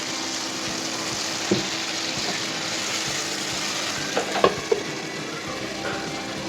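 Chopped tomato sizzling in a pan of paneer curry with soybean, a continuous hiss of frying with a few soft knocks and clatters of a spoon, fairly loud and close.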